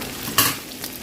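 Ginger garlic paste hits a hot pan for a fish curry with bamboo shoot, a short sharp burst of sizzling and stirring that quickly settles into a quieter fry.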